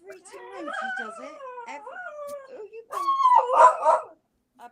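A dog howls in long wavering cries, then lets out a few short, louder barking yelps near the end, close by, with a little background chatter.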